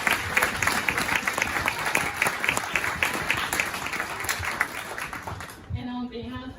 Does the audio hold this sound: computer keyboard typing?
no